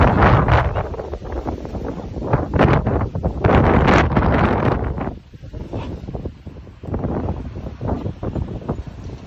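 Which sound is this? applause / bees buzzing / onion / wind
wind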